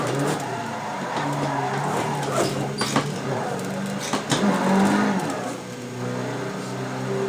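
Nissan 180SX engine in Assetto Corsa revving and bogging during a slow touge drift, a steady harmonic drone with brief surges and tire scrub, with faint talk underneath.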